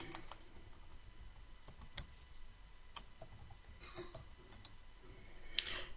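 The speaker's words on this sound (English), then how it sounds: "So I'm going to type now" Typing on a computer keyboard: a run of faint, uneven key clicks with a few sharper taps, heard up close over a low background hum, with no talking.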